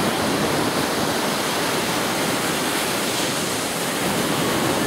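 Sea waves wash around someone's legs in ankle-deep surf, a continuous loud, hissing rush of water with no distinct breaks and no talk.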